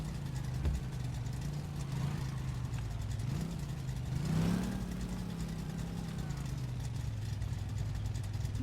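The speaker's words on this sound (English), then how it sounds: "There's the car just spawned in." A diesel car engine runs in a car mechanic video game, a low steady idle with a slight rise in revs midway, heard at a moderate level with no one talking over it.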